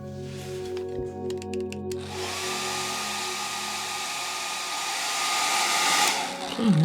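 Hair dryer blowing steadily on a cardboard sea turtle craft, a loud continuous whooshing hum close by with no talking.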